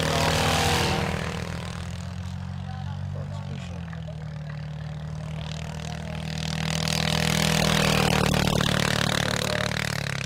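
Modified rice-field tractors race in Thailand, their big engines roaring steadily and loudly for the full stretch, swelling toward the end as they rev hard.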